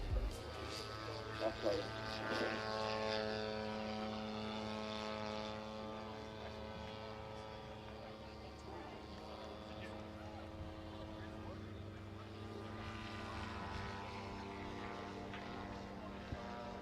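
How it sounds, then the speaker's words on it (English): A Grumman Bearcat propeller warbird drones steadily at an airshow, a sustained rumbling engine tone rising and falling in pitch as it passes, with commentary talk over it. "So we've got Henry's Grumman Bearcat, which is flown by Keith Barnes."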